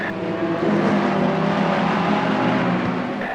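Several Ferrari 488 race cars battle for tenth place in a sim racing game, their engines whining loud and steady throughout with layered tones of cars running close together and no talk.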